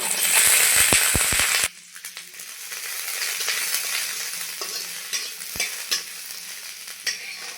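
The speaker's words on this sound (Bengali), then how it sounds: "কড়াইয়ে আমি এক চামচেরও কম তেল দিয়ে দিয়েছি এখানে নিয়েছি রসুন রসুন ভেজে নেব" Garlic hitting a little oil in a wok gives a loud, dense sizzle at first, then settles into a steadier, quieter frying hiss with scattered stirring scrapes and small clicks.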